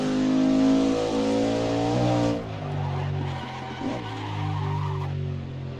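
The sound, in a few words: race car tires screeching under braking lock-up, Assetto Corsa video game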